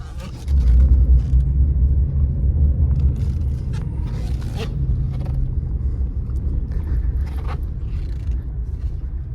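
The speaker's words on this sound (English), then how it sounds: "That's how they bring them out on a forklift." A forklift carries a salvaged Ford truck out of an auction yard, producing a steady, close, low engine rumble with faint scraping and clanks throughout, without talk.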